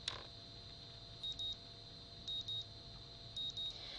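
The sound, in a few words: morning alarm clock going off in Katawa Shoujo video game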